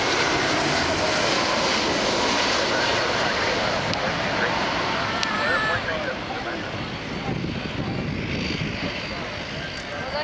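Arkefly airliner flying at Toronto Pearson airport, a loud rumbling engine roar passing close by and slowly easing off, with people talking over it.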